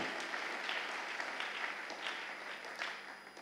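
A church congregation claps together, with dense, steady applause filling the room at moderate volume and mixed with some cheering voices.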